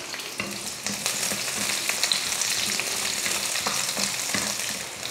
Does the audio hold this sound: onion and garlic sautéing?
yes